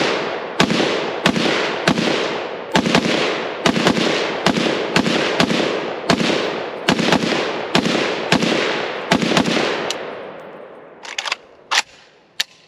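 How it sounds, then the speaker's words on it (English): Rapid rifle fire from a Zastava M77-PS .308 at an outdoor range, a dozen loud, sharp reports in quick succession with long decaying echoes, ending in a few spaced, quieter cracks. "let's cut over to the range and look at our first shots out of this new gun. M77, very first shot."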